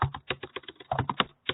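Fast, close clicking of keys on a computer keyboard, about a dozen quick taps in an uneven typing rhythm with a short pause near the end.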